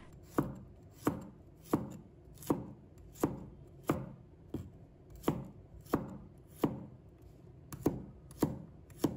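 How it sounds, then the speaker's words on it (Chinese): A knife chops garlic into small pieces on a cutting board: about fourteen crisp, close strikes in a steady, even rhythm, with no voices. "把大蒜切成小块"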